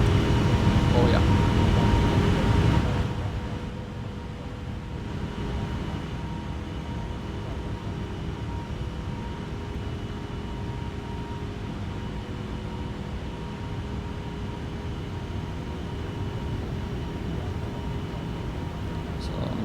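Exterior sound of an Airbus A350 airliner from an FMOD sound pack in X-Plane 11: a loud, steady broadband engine roar that drops slightly after a few seconds and then holds as a continuous drone.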